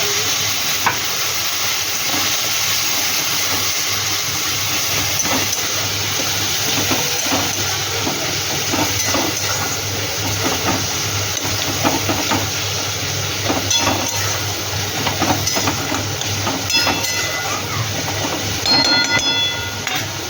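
Water poured into a hot pan of Bengali fish curry sets off a loud, steady sizzle and hiss that runs throughout, with faint stirring scrapes and no talking.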